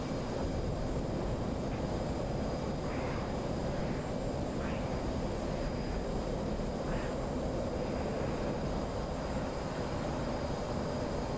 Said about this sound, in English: All right, here comes an F-16.